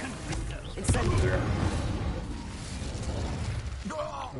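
A fire spell cast in the video game Hogwarts Legacy flares in a sudden crackling burst, then a rumbling roar that trails off, with someone talking over the game audio.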